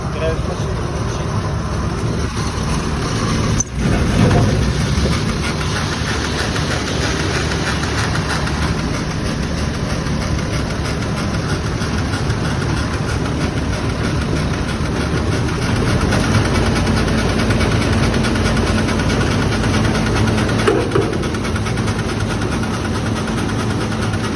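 A Volvo 800 mini combine engine idles steadily and unwarmed, a continuous mechanical drone with a brief knock near the four-second mark, heard up close over about twenty-four seconds with voices in the background.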